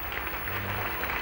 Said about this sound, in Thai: ขอเสียงปรบมือดังๆให้เกียรติกับพวกเธออีกสักครั้งหนึ่งครับ